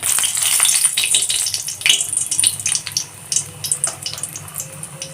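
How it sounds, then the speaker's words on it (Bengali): Nigella seeds and dry red chilies hit hot mustard oil in a pan, giving a bright, steady hiss with scattered crackles and pops, close and continuous, no voices. "কড়াইতে সর্ষের তেল দিয়ে দিয়েছি তেলটা গরম হতেই আগে দিয়ে দেব কালো জিরে ফোড়ন"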